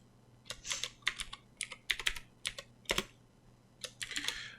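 Someone types on a computer keyboard, close and quiet, in short irregular bursts of rapid key clicks separated by brief pauses.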